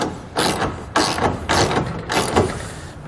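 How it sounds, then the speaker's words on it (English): Hardware on an Erickson truck bed ladder rack with load stops being tightened down, a run of repeated ratcheting clicks in several bursts, close and fairly loud with no talk. "We'll tighten down this hardware."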